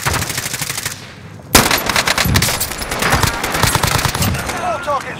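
Rapid automatic gunfire and repeated shots from the video game Call of Duty: Modern Warfare, loud and dense with bursts throughout, briefly dropping before a sharp loud burst resumes the fusillade.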